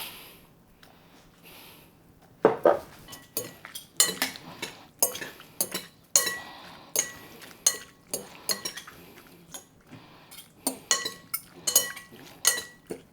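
Utensils clink and scrape against a bowl while cucumber salad is tossed with sauce and herbs, a steady run of sharp, close mixing clatters with no talking.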